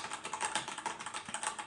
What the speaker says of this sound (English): Because here, for example, I have Das keyboard MX Brown.